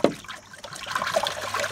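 Water gushing and spraying out of a self-priming safety siphon pump fitted with a quarter-turn shutoff, a steady close splashing flow with no voices.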